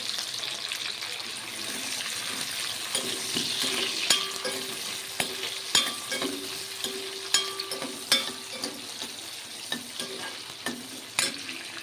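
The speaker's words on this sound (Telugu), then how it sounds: "ఆయిల్ పోసిన చేపలు వేపుకుందాము కొంచెం దూరం వేపుకోవాలండి" Fish fries in hot oil in a kadai, a constant crackling sizzle with sharp spits and pops that grow more frequent over time, close and steady with no talk.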